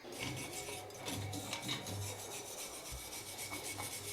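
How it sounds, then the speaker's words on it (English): A brush scrubs out the inside of a rusty pipe during a bathroom renovation, rapid back-and-forth scraping strokes close up, with a brief knock partway through and no talking. "I'm going to put this on and brush out the inside of the pipe a little bit"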